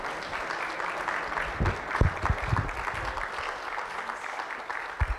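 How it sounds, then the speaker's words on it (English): Sustained applause from a business summit audience in a hall, a steady broadband clatter lasting about five seconds with a few louder thumps, no talk over it. "Please, shall we welcome him with a standing ovation and a round of applause?"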